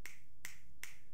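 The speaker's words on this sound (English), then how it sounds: "I'm going to do some snapping" Three crisp finger snaps, evenly spaced about every four-tenths of a second, close to a microphone during a sound test, sharp and bright against a quiet room with no talking.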